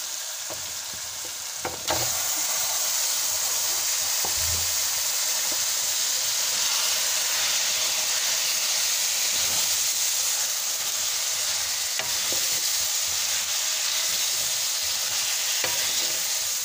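Mustard greens (saag) fry in hot masala with a loud, steady sizzle and hiss that swells after a brief thud, with faint scrapes of stirring.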